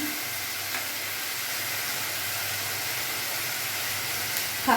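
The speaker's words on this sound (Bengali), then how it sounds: "কাঁচা গন্ধটা চলে যাবে ততক্ষণ একটু ভাজবো" Taro stolons (kochu loti) sizzle in oil in a pan with a steady, close hiss, and a spoon clinks faintly near the end; nobody talks.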